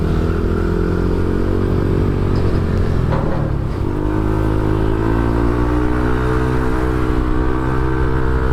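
A motorcycle cruises along a road in Pampanga, its engine droning steadily up close with a rising rev mid-ride, wind noise and road rumble underneath.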